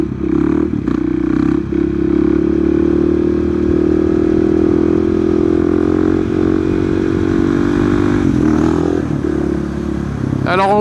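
A 2020 KTM 690 SMC R motorcycle being ridden, its engine loud and close with a sustained buzzing drone that climbs steadily in pitch under acceleration, followed by a brief dip and another rev near the end.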